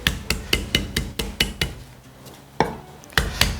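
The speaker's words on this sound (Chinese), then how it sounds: "这是个铁棍山药，直接给它拍碎。" A knife blade smashes a Chinese iron-stick yam on a chopping board, a rapid run of about nine sharp, close thwacks at an even rhythm, a short pause, then a few heavier blows.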